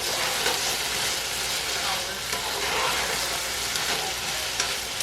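Cut-up meat fries in a skillet and is stirred around, giving a dense, continuous close sizzle with faint scraping throughout.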